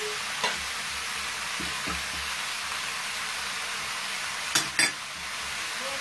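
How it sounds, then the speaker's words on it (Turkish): Spices dropped into tomatoes and peppers frying in a pan for okra, with a steady low sizzle and a few soft spoon taps and clinks near the end, close and moderate, no speech. "Ve bu ekledikten sonra baharatlar ekliyoruz."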